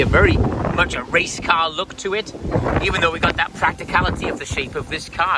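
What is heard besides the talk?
wind noise on microphone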